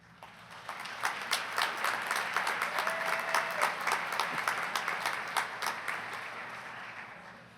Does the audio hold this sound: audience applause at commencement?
yes